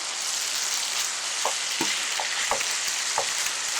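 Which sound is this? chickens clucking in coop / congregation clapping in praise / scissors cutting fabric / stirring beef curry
stirring beef curry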